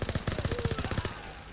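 A WAF 28 fires in Call of Duty WWII as one rapid, evenly spaced automatic burst of about fifteen loud, close shots. The burst stops abruptly and a brief fading tail follows.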